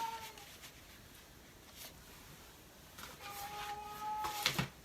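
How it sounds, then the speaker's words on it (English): A cat meows a couple of times at moderate distance, drawn-out cries over quiet room noise, with a sharper louder call near the end. "Sorry, my cat's loud."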